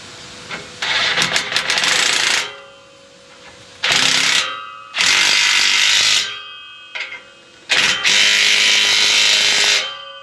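An exhaust hanger clamp on a 2003 Ford F-150 4x4 is tightened with a power tool, giving loud bursts of whirring and rattling impact-driver noise, with short pauses between runs, close up.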